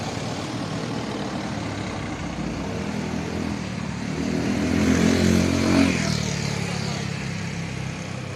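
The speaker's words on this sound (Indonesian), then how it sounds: "bis Budiman kali ini bis mikro alias bis kecil ya teman-teman" A small Budiman micro bus on the Tasik–Purwokerto route rumbles at the Ciamis bus terminal. Its engine holds a steady, close drone that swells into a louder revving pass midway and then settles again.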